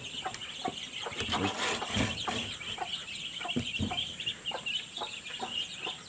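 Chickens clucking nearby in a series of short, irregular calls over a faint hissing background, with no talking.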